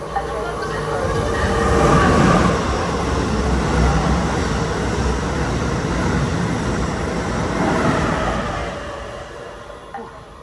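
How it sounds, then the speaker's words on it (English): A WMATA Red Line metro train rolls into a station with a loud, sustained rumble of wheels and rail noise that swells, holds steady for several seconds, then eases as it slows at the platform. "Attention please. A train is approaching."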